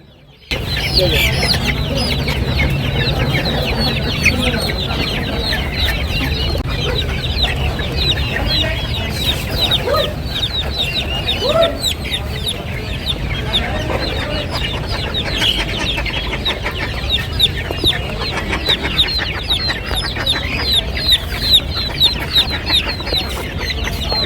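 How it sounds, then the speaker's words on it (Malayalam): Many chickens cluck and squawk together at a poultry market in a busy, unbroken chorus that lasts throughout, fairly loud and close. "എല്ലാ ഇനത്തിൽപ്പെട്ട കോഴികളും ലഭ്യമാണ്"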